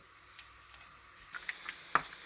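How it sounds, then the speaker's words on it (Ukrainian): Chicken fillet fries quietly in a pan, sizzling steadily, with a few sharp pops and crackles standing out near the end. "Смажимо там 2-3 хвилинки."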